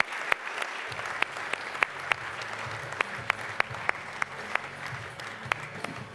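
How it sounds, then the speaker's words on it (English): An audience at the America's Cup overture event applauds steadily, dense clapping with a few sharp claps standing out, continuing evenly throughout. "please give a big round of applause for the Executive Director and Skipper"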